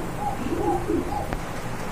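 Racer pigeons at a pigeon market give soft, low coos, a few rolling calls in quick succession close by, with a brief knock near the end and steady background murmur.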